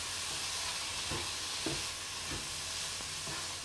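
Noodles are stirred in a hot pan over a continuous sizzle, with soft periodic scrapes and shuffles of the stirring strokes roughly every half second, close and without talk.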